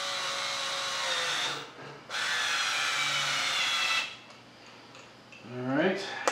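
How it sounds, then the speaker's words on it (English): A power driver screws a handle onto a York HVQ 516 bench vise in two loud whirring bursts, each a couple of seconds long, followed by quieter rattling and scraping at close range. "I'm just gonna screw one side in"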